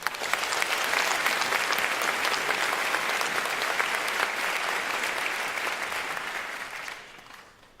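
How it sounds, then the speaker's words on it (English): Audience applause at a school district event welcoming a guest, a dense, steady wash of many hands clapping close and loud for about seven seconds before quickly fading out. "How about a round of applause?"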